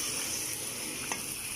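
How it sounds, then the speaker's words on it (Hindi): Chicken karahi pieces fry over medium heat in a pan, giving a steady, close hiss of sizzling oil and meat with one brief scrape of a spoon partway through. No one speaks. "मैंने इसको 4-5 मिनट तक मीडियम आंच पे इसको मैंने भून लिया"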